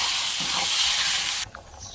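Spices sizzling in hot oil while goat liver cooks, a loud steady hiss that cuts off abruptly near the end, leaving a faint quieter sizzle.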